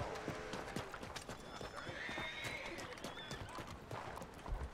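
A horse in a western video game whinnies while its hooves clip-clop in quick, uneven beats close by, the neigh rising high and shrill above the trotting.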